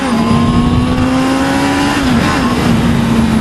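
A 2019 Honda CB650R motorcycle engine revs high, around 11,000 RPM, holding a steady, loud, whining pitch, with one brief dip as the revs drop and climb again.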